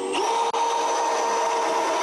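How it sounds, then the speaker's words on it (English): A power drill drives screws into a wooden raised bed with a loud, steady whine that briefly cuts out once before continuing. "So let me continue to put the screws in here."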